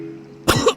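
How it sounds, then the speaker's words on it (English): A woman coughs sharply a couple of times after a sip of Scotch in a radio drama, close and loud, after a moment of quiet. "She starts coughing."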